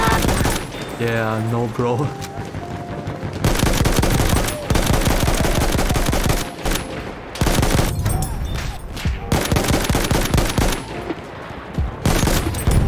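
Loud, dense bursts of enemy machine-gun fire in a first-person shooter, coming in long sustained volleys with brief gaps, while a player talks briefly over the shooting.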